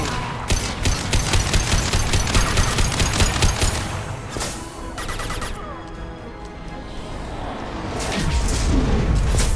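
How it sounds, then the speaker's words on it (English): Heavy explosion in the video game Mass Effect 2, booming amid dense rapid gunfire and combat noise that stays loud throughout, with a brief lull midway before the blasts swell again. "Kaboom!"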